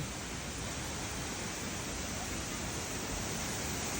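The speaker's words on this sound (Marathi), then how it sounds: "कसला बघा धबधबा" A waterfall seen beside a road roars as a steady, dense wash of broadband noise, loud and unbroken throughout.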